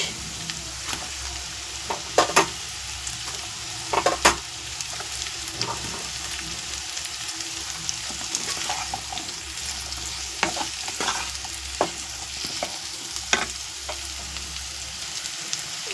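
Capsicum and onion being stirred into potatoes and carrots frying in a pan, with a steady close sizzle and occasional sharp scrapes of the spoon against the pan, no talking.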